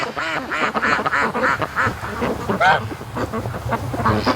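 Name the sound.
free range ducks quacking on a lake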